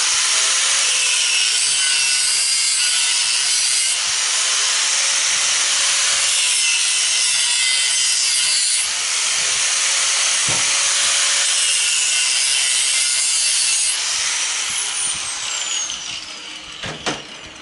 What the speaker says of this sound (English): But you can use a hacksaw if you have to.